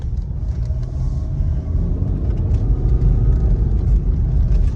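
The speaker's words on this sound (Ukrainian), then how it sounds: "Автомобіль набирає швидкість дуже круто." A 2008 Renault Laguna's engine hums low and steady as it picks up speed, a constant road rumble heard from inside, with no voices.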